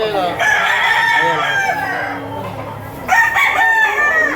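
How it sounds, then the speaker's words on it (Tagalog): Roosters crow loudly and close by at an auction market in Lipa, Batangas, two long crows one after another, with clucking hens faintly in the background. "Video natin yung mga manok ni Ate Pau"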